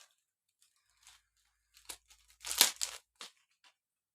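Football card packs being torn open up close, with short crinkly rips and crumpling foil building to a louder tearing burst in the middle, then fading to light rustles.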